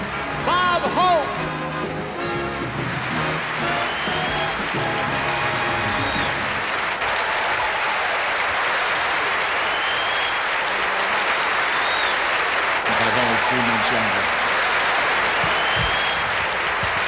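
A large audience at the 1975 Stars and Stripes show in Oklahoma City applauds Bob Hope's entrance, a loud, sustained wash of clapping and cheering that fills the whole stretch, with music at the start and a voice over it early on.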